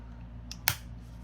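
Krause metal planner rings snap shut once: a single crisp, faint click, with a softer tick just before it, over a quiet room background.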